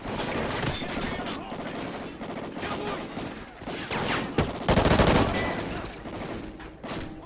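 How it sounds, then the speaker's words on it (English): Heavy, sustained gunfire in Call of Duty: Ghosts, a dense barrage of overlapping shots with a louder burst near the end, under faint voices. "I do not appreciate you shooting at me"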